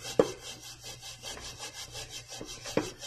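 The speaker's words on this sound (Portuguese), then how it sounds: "Mas vou esfregar tudinho aqui." Steady back-and-forth scrubbing of a burnt cooking pan treated with liquid ammonia: a close, rhythmic rasping that repeats evenly throughout, with two sharper knocks, one near the start and one near the end.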